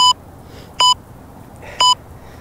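During a kettlebell workout, an interval timer gives three short, loud electronic beeps, each about 0.8 seconds apart, with near silence between them.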